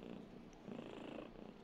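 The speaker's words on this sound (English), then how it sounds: "Just finished eating and purring? Purring because you're happy?" A cat purring contentedly right after eating, a soft, low continuous rumble close up, quiet and steady with slight swells in intensity and no speech.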